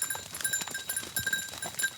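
Goats on a small cheese farm near Uzès move about outdoors, with scattered close rustling, soft bleats and light bell-like tinkles forming a busy, uneven texture without speech.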